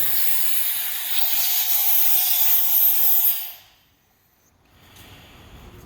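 A loud, steady hiss of compressed air rushes out of a firefighter's air bottle valve for about three seconds, then cuts off abruptly, leaving a faint low hiss.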